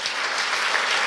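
A seated audience at a Dutch discussion event gives steady applause for guest speakers, a brief continuous wash of many hands clapping.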